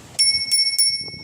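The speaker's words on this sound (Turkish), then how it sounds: "Salkano'nun size hediyesi bu zil." A bicycle bell on a Salcano NG 555 bike rings three times in quick succession, bright and close, each ding leaving a sustained metallic ring.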